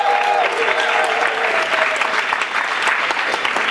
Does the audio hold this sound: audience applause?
yes